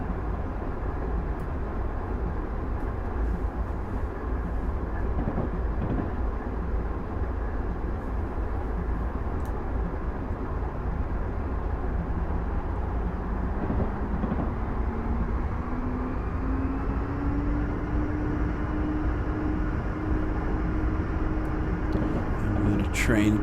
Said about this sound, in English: Train coming up here